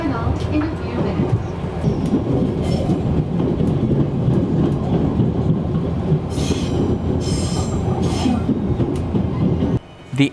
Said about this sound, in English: the train slided into Nagano Station